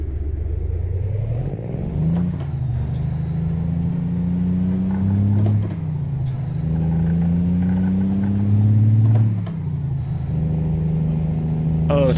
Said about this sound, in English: Oh, it's a good sounding truck.